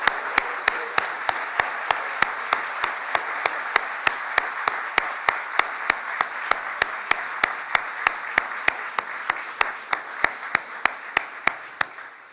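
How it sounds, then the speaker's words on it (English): Applause during a US presidential speech on the Inflation Reduction Act, heard as a steady, evenly spaced run of sharp claps standing out over a dense, moderately loud crowd wash. "Stand up so Nancy and I can give the greatest applause line of all of you."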